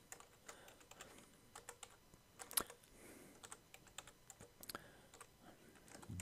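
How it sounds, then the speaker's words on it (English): Someone types a long file name on a computer keyboard, a quiet run of irregular light key clicks with one sharper tap, alone without talk. "I'm going to type it on the next line down"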